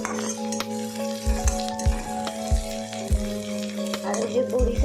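Red amaranth greens frying in a pan with crumbled mung dal vadi, a steady sizzle broken by repeated scraping and stirring strokes, close and fairly loud.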